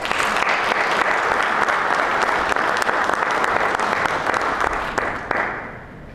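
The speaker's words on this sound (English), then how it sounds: "Let's give her another round of applause" Sustained applause from an audience at an MLK Jr. tribute breakfast for a scholarship recipient, thick continuous clapping that holds steady and then fades near the end.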